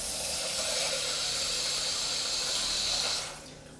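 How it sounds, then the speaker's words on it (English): Tap water runs into a sink while Calrose rice is rinsed, a steady close rushing splash that stops abruptly near the end. "good cooks will rinse their rice"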